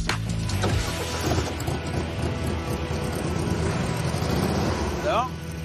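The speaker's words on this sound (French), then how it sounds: "Nico va demander à François de démarrer son moteur." A Porsche 550 replica with a carburetted engine starts with a loud burst, then settles into a steady, rumbling idle close by.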